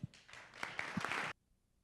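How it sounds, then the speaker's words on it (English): An audience claps for a speaker arriving at a marketing talk, a short burst of scattered hand claps of moderate loudness that ends abruptly after just over a second. "let's give a big round of applause for Chris Lundell"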